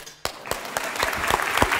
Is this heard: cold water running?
no